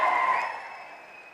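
Audience clapping at a political rally in Narayanpet, a dense wash of applause that is loud at first and then slowly fades, with no voices over it.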